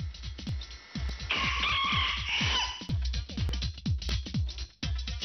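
Hen clucking in a quick, steady rhythm of short calls, loud and close, with a brief crowing-like burst partway through; no talking.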